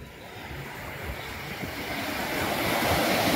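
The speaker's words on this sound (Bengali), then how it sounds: "এই যে আওয়াজটা সমুদ্রের," Sea waves wash onto the shore at Mousuni Island in a continuous broad roar that slowly swells louder as the surf draws closer, with some wind noise and no talking.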